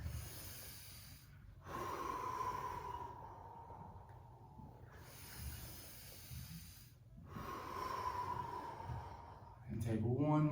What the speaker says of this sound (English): let's take a couple more breaths